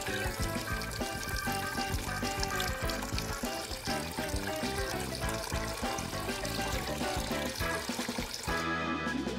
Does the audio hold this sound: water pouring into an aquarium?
yes